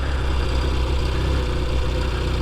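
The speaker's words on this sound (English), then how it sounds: "I got a little more power, a little more grunt to the exhaust sound." A 1968 Triumph TR6C motorcycle with a high-pipe scrambler exhaust runs at a steady idle, giving a close, loud, even engine rumble with a low throbbing exhaust note and no speech.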